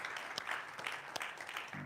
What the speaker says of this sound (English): Let's give Megan another round of applause.